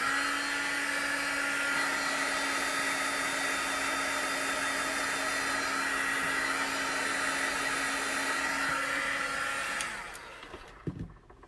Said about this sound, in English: I'm using an embossing heat gun today because my other heat gun is pretty loud